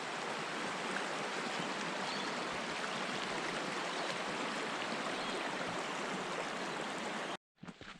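Steady rushing of creek water flowing over rocks at a creek crossing in Carnarvon Gorge, continuous and close, then cutting off abruptly near the end.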